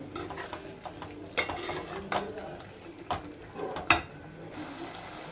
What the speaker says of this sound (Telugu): దీన్ని కూడా బాగా కలుపుకొని ఇంకా కొంచెం థిక్గా అయినంత వరకు ఉంచి